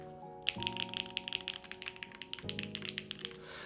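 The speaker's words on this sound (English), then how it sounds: "Wait, this keyboard sounds actually pretty good." Rapid, crisp clicking of keys on a mechanical keyboard, typed in quick bursts close to the listener.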